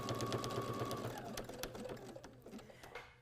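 A sewing machine stitches an appliqué egg yolk onto a quilted hot pad, a steady fast mechanical whir with a rapid needle rhythm that slows and stops near the end, close and alone.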